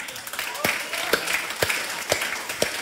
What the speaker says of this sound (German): komm, ein Applaus.